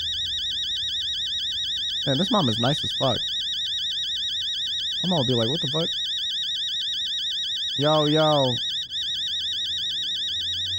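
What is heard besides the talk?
alarm clock ringing by bedside in video game Fears to Fathom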